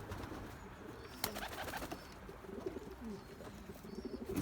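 A racing pigeon cock, a dark check pied, coos softly while showing off, the low murmuring calls faint and distant beneath loft background noise, with a brief rustle or flap near the start.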